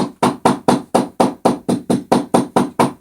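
A hammer pounds the seams of a leather shoe to soften them, striking in a steady, even rhythm of about a dozen sharp, close blows with no talk.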